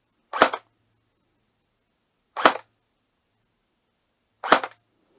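Three sharp single shots from a GSG 522 ICS airsoft replica firing in semi-auto, evenly spaced about two seconds apart, each a crisp close pop with silence between.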